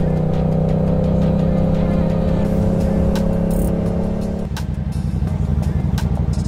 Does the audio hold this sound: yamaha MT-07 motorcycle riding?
yes